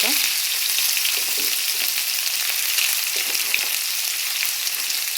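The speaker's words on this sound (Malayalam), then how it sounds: "കടുകെല്ലാം നന്നായിട്ട് പൊട്ടിയ ശേഷം നമ്മൾ അരിഞ്ഞു വെച്ചിരിക്കുന്നത് സവാള ഇതിനകത്ത് ഇട്ട് കൊടുക്കാം." Sliced onions fry in coconut oil with popped mustard seeds and curry leaves, a loud, steady sizzle broken by occasional clicks and scrapes of stirring.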